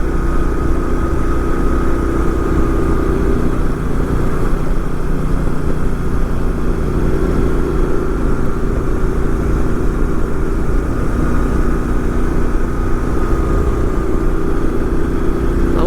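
A 2012 Moto Guzzi Norge 8V motorcycle on the road gives a steady, even engine drone with rushing wind noise. It holds at a constant level for the whole stretch with no talking.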